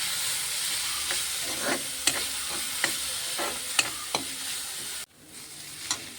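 Curry leaves being stirred into an okra and egg stir-fry, a steady sizzle and hiss under repeated scraping and tapping of a spoon against the pan, close up, with a brief drop near the end.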